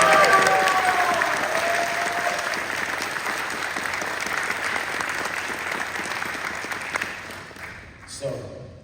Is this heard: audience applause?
yes